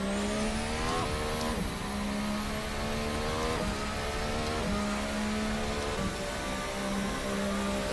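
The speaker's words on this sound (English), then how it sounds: "you'll start to hear the sounds of this engine" A 1.6-litre single-turbo V6 hybrid race car engine screams loudly and continuously, rising through the revs with repeated gear shifts at a steady rhythm.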